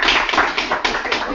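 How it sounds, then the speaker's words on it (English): Scattered hand claps from meeting participants applauding a colleague, a quick patter of close, light taps over 1.4 seconds with no talk, the thin sound typical of a video call. "Can we get a round of applause for Sam?"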